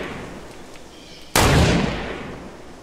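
A single sharp gunshot in Fortnite cracks out loud and close after a quiet stretch, then decays into a fading echo.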